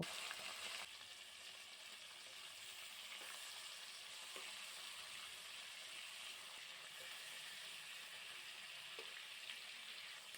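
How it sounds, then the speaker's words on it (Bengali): Prawns coated in salt and turmeric fry lightly in mustard oil, giving a steady, soft sizzling hiss that runs through the whole stretch with small crackles and no talk. "এবার সর্ষের তেলের মধ্যে আমি চিংড়ি মাছগুলোকে ভেজে নেব"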